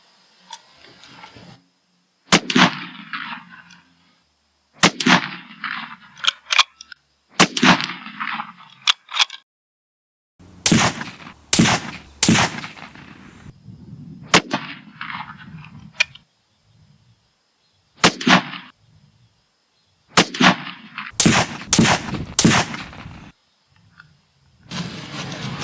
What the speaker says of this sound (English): This is a Ruger Gunsight Scout in 308 Winchester.